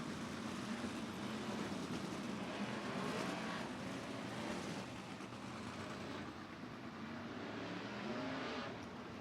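Sprint cars race on the Southern Oregon Speedway during a Western Sprint Tour event, a steady, loud roar of engines with cars surging past and the pitch swelling and falling, heard alone without talk.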